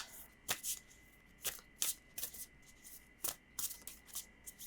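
A deck of Affirmators cards is shuffled by hand in a quiet room, about eight or nine short riffling bursts at irregular intervals, soft and close.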